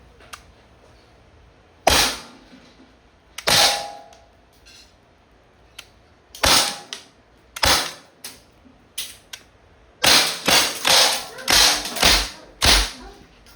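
Umarex SA10 airgun pistol firing steel balls, eight sharp snapping shots at uneven intervals and louder toward the end, each a crisp close crack with no talking between them.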